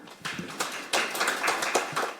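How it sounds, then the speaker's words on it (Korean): At a policy forum on AI-based content, a small audience claps lightly for the next presenter. The claps are faint, sparse and irregular, scattered across a couple of seconds in a quiet room. "큰 박수 부탁드립니다"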